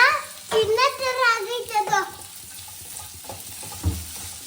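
Pepper dry being fried in oil in a home kitchen, a soft sizzle and stirring under a child's and an adult's voices talking close by.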